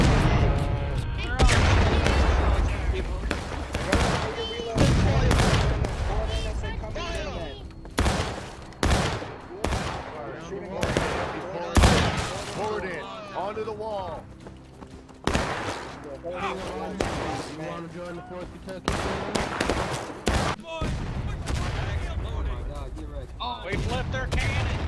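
Battle sounds from the War of Rights video game: artillery booms and volleys of musket gunfire crack in rapid, irregular bursts, some close and loud, with voices shouting over the fighting.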